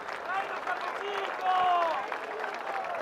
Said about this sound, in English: a huge round of applause for all of our podium winners